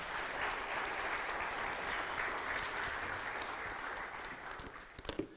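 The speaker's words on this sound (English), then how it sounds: "Everybody give him a round of applause." An audience applauds a person called up on stage at a talk on security and deception, a dense, sustained clapping that swells early and tapers off over several seconds.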